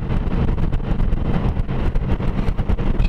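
Motorcycles rumble along on a Blue Knights club ride of dressers headed toward Madison, a steady low engine drone with heavy wind buffeting the microphone throughout, no talk.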